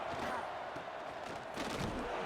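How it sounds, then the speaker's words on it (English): Stadium crowd in a college football video game roars during a third-down play, a dense, steady wash of cheering, soft and distant-sounding. "Crowd is into it. They're feeling it."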